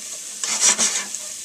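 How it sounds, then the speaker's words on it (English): Garlic, oil and oregano stirred in a hot pan make a close, bright sizzle that swells in the middle as a utensil scrapes through, then settles back to a gentle fry. "I'm just going to stir it up, get the oil and the garlic with the oregano evenly"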